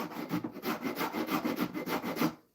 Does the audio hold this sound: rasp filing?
yes